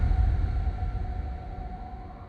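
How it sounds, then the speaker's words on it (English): Police car sirens wailing outside a house, a steady faint tone held over a low rumbling wash, fairly distant and with no voices. "sirens."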